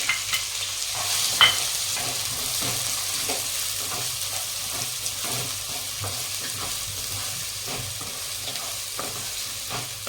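Three chopped onions for paneer bhurji fry and sizzle in a pan while being stirred, with a steady close hiss broken by soft scraping strokes of the spoon and no talking.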